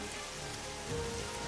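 Heavy rain pours down in a dense, constant hiss of drops hitting surfaces, loud and unbroken with no voices over it.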